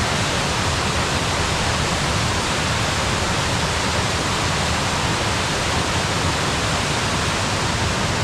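Scaleber Force waterfall crashing down at close range, a loud, steady broadband roar of falling water that holds even and unbroken throughout, with no voices.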